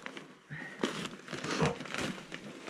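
A plastic bag of alder wood smoking chips crinkles and rustles close by in irregular bursts, with brief handling noises.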